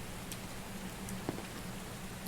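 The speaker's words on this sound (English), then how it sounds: "The rain, this is a particle system I made early on" Steady light rain from a particle effect in the video game Milo hisses evenly throughout, with a few faint drop-like ticks and one sharper tap at the end.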